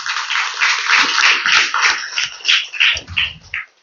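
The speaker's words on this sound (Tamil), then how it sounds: "சந்தோஷமா நல்லா கைத்தட்டி" A church congregation claps during a feast-day Mass for Saint Anthony, bursts of hand claps close and loud, in uneven clusters that swell and pause over a few seconds.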